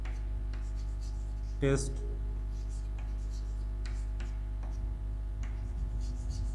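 Pen or marker writing out a maths solution, soft ticking strokes over a steady electrical hum, with one brief louder sound and some speech.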